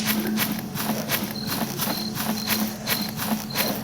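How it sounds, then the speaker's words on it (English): Crickets chirp steadily in a pulsing rhythmic pattern across an outdoor night ambience in the video game Anomaly, mixed with regular soft thuds like footsteps, continuous and fairly loud. "Crickets."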